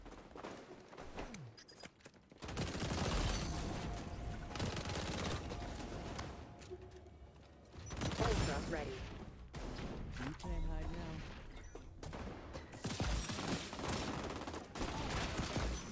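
Vector SMG fire in the shooter XDefiant comes in loud, rapid bursts separated by short quieter gaps, mixed with other game noise during a busy firefight.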